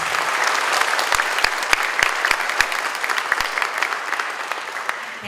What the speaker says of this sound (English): Please give applause for AASF 2015.